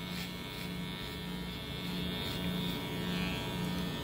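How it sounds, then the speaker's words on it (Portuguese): An electric hair clipper buzzes steadily while slowly trimming a client's hair at a barbershop, a close, continuous motor drone with a faint pulsing rhythm and no talking. "Aí eu passo a máquina bem devagar para não machucar o cliente"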